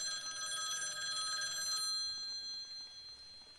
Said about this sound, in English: received an urgent call from an old acquaintance, Professor Richard Hawthorne